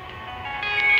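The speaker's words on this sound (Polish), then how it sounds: "przepraszam, ale znowuż telefon" A telephone rings with a short electronic tone of steady pitch that swells slightly over about a second, with a faint room hush behind it.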